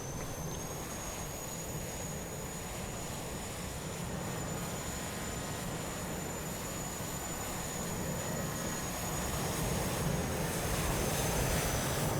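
Airbus engines idling in Microsoft Flight Simulator, a steady, faint whining drone with an even low rumble beneath, unchanging for the whole stretch and free of speech.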